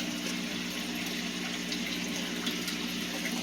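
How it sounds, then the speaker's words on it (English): A sump pump draining aquarium water makes a steady, close rush of flowing water with a constant low hum underneath, continuous and even throughout, with no talking. "Luckily, I've got this sump pump right here."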